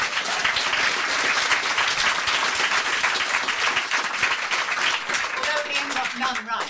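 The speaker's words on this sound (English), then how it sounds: "let's have a round of applause for Ian Rankin in that round" An audience applauds crime novelist Ian Rankin at a quiz-style live show, with full, even clapping that carries for several seconds before tapering off as a voice begins to talk.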